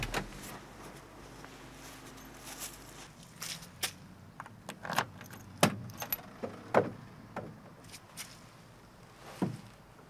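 A car trunk is opened during a police investigation scene, heard as a series of faint metallic clicks, key jangles and latch clunks spread unevenly over several seconds against a quiet background.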